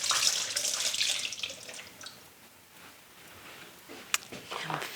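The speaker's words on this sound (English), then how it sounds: "We're going to dump that water out." Water poured out of a glass jar into a sink, a broad splashing rush at the start that tapers into a softer trickle, with a sharp clink of glass near the end.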